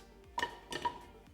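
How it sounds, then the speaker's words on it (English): Chopped celery and unpeeled carrots tumble into a pot in two quick bursts of clattering thuds and clinks, close and moderately loud, in a quiet kitchen while a roast turkey and gravy are being prepared. "So we're gonna throw all this in our pot"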